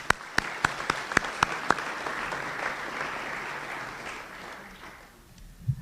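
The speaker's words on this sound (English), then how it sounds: "let's give a round of applause for Emily" Audience applause at a university senior student-athlete luncheon, opening with a few sharp separate claps that swell into sustained clapping across the room and then fade away.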